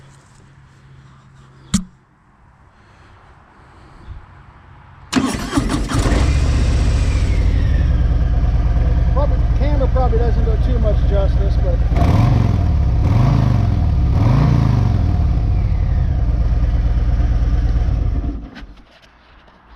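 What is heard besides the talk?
motorcycle engine starting, stock exhaust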